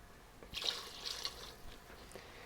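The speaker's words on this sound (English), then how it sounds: "In goes that cup of water." A cup of water is poured into a pot of cabbage and potato soup with bacon, giving a quiet, short splashing pour of about a second followed by faint trickling.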